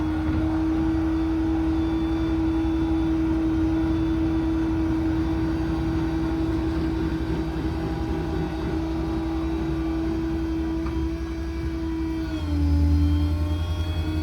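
A 2021 Ford F600 truck with a 7.3 V8 runs at a steady, loud, droning raised idle with a constant engine hum and a small swell near the end; no talk.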